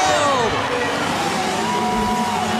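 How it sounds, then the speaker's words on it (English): A crowd at a Harley-Davidson flat track race cheers wildly in a loud, continuous roar, with motorcycle engines whining and sweeping past underneath. "You hear the crowd going wild."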